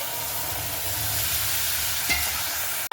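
Tomato and potato pieces dropped into oil tempered with dried red chilli, a steady close sizzle of frying with a brief spatula scrape near the end and no voices.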